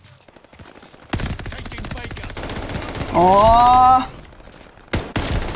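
Automatic gunfire from an assault rifle in Call of Duty, starting abruptly and running as loud rapid bursts with a whining tonal effect partway through, with a brief spoken exclamation.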